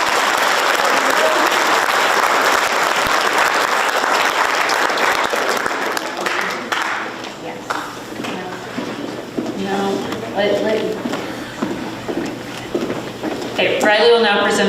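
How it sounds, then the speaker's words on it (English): An audience at a high school FFA awards event applauds the award recipients, with dense clapping loud at first that fades after about six seconds, followed by scattered room noise and talking. "let's give them a round of applause"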